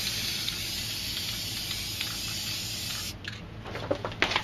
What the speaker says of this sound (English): I'm going to spray some white here.